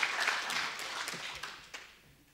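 An audience at a ladies' training camp claps on request. The applause is moderate and scattered, with a few sharp individual claps standing out, and it thins out toward the end.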